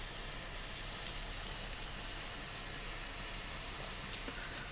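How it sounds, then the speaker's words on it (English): Water boils in a steam engine boiler, a dense, continuous hiss and bubbling roar with faint occasional pops, steady and fairly loud throughout. "You can hear boiling noises coming out of the boiler."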